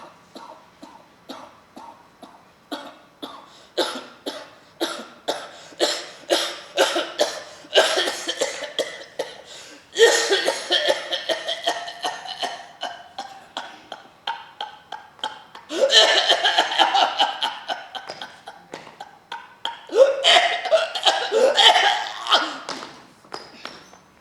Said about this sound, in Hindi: मैंने देखा माँ को अचानक खांसी के दौरे पड़े हैं।